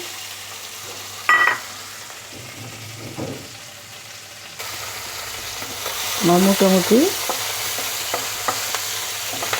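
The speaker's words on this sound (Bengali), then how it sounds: "তারপরে তেল গরম করে নিয়েছি এখন আমি মাছগুলোকে ভেজে নিচ্ছি" Salted hilsa fish frying in hot oil, a steady broadband sizzle with clinks of a utensil stirring in the pan and a short stretch of talk partway through.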